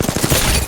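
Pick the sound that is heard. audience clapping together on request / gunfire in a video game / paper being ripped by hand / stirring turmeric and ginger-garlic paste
gunfire in a video game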